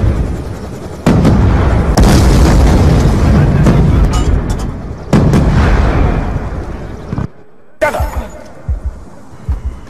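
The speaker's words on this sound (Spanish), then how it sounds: "¡Va una granada!" Loud video game explosions with broadband booms and rumbling debris, one big blast near the start, another around five seconds, then a short quiet gap and more bursts; voices are faintly present in the mix.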